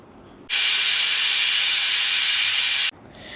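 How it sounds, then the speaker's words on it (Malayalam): A pressure cooker whistles on the stove while chicken biryani cooks, giving one loud, steady, hissing blast of steam that lasts about two and a half seconds and then cuts off abruptly. "എന്നിട്ട് നമുക്ക് കുക്കർ അടച്ച് വയ്ക്കാം. എന്നിട്ട് ഒരു വിസിൽ വരുന്നവരെ വെയിറ്റ് ചെയ്യാം."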